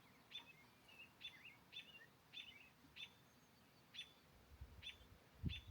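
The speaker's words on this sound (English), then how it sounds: "we got a robin over there." A robin singing outdoors near a trailer overlooking a valley at a dispersed campsite in Idaho, short repeated chirping phrases at a steady pace, fairly distant and faint over quiet ambient background.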